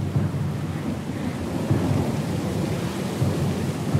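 Thunderstorm at sea in the video game Pillars of Eternity 2: Deadfire, heavy rain and low rolling thunder rumbling continuously and loudly, with wind mixed in and no voices.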